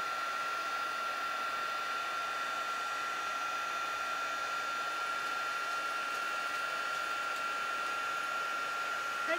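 A heat gun blows steadily throughout while a card is heat embossed, a constant close whooshing hiss with a faint high whine, with no pauses and no talk.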